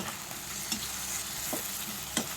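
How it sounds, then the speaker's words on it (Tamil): Medium-sized tomatoes sauté in a pan for a squid gravy, making a soft, steady sizzle with a few light scrapes from stirring. The sound is close but fairly quiet. "தக்காளியை நல்லா வதக்கி கொடுத்துடலாம்."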